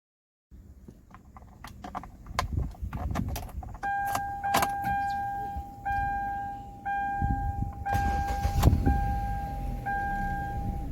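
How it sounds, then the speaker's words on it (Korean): Kia K5 engine starting and idling roughly with a misfire, its revs sagging as if about to stall, heard close up alongside repeated electronic warning chimes and some clicks and clatter. "시동을 걸면 이렇게 RPM이 떨어지면서 시동이 꺼지려고 합니다"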